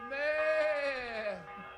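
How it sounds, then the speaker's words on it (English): A single drawn-out sheep bleat from Kingdom Come Deliverance, close and wavering, falling slightly in pitch before fading. "Why are all these sheep?"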